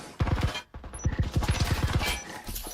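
Gunfire in a VR multiplayer shooter match, a rapid string of sharp, close reports in two bursts with a brief gap between them, over a busy game soundscape.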